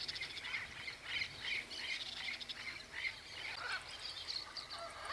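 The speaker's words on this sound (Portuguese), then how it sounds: "Araras." Macaws squawking by the São Lourenço river, a flock of harsh repeated calls in quick irregular bursts at moderate distance, with no talking over them.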